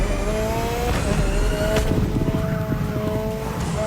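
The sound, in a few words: Mazda MX-5 drift car engine, video game The Crew Motorfest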